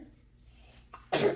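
A single short, sharp sneeze from an 18-month-old toddler with a stuffy nose bursts out near the end after quiet breathing, close and fairly loud.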